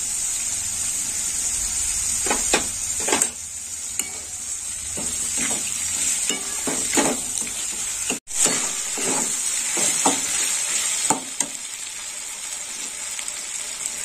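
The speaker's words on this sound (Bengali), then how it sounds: "একটু ভালো করে নেড়ে চেড়ে নেব।" Spices sizzle steadily in hot oil in a pan for a potato curry with green chili paste added, while a spoon scrapes and stirs in short, repeated strokes over the constant frying hiss.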